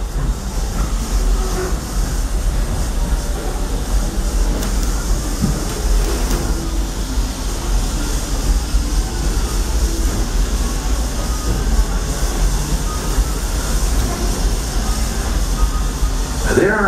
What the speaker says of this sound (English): There are some who say that this steam train is a little old-fashioned